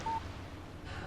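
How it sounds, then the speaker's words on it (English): A single short electronic tone sounds near the start, a text message alert from a phone in the Alan Wake video game, followed by low ambient background. "Text message from Barry"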